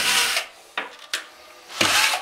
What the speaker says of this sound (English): So I'm going to tap a hole in each,